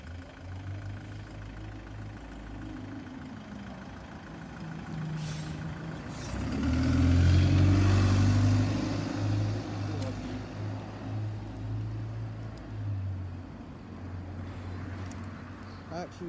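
A London 226 bus passing through Gladstone Park in Dollis Hill, its diesel engine rumbling closer, growing loudest midway with a low droning hum, then fading away under faint outdoor ambience and occasional voices.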